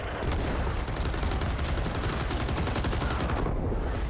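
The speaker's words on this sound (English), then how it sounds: "I managed to spot a couple of people in there with a machine gun, try and mow them down." Sustained machine gun fire in a video game rattles loud and close as one continuous rapid burst of shots lasting several seconds, with no voices.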